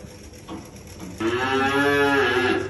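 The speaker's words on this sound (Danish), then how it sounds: "Det er store køer." Large cows on a farm low loudly and close by, one long sustained moo rising out of a quieter earlier call over steady outdoor background noise.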